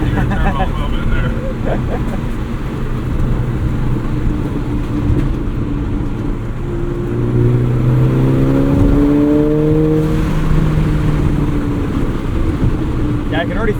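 A 2008 Volkswagen GTI two-door with a manual gearbox and turbo engine pulls hard, a loud steady drone with rising pitch as it accelerates, heard from inside the cabin while people talk over it.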